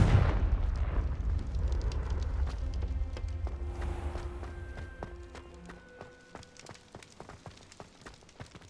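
A Confringo blasting spell goes off in Hogwarts Legacy, a loud booming explosion with rumbling debris that fades over several seconds into scattered, sparkling crackles and ringing tones.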